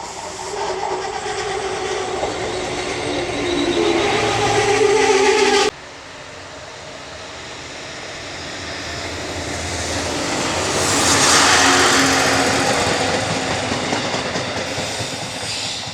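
A train bound for Poznan, Poland rumbles along the tracks with a steady roar and faint clacking, briefly dipping before swelling louder again as it speeds on.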